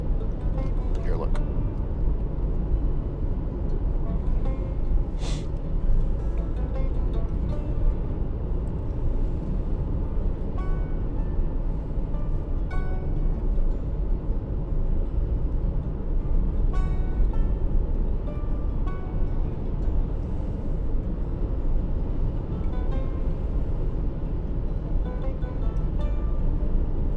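A car drives along a mountain road, with a steady low rumble of engine and road noise filling the interior while a person talks over it.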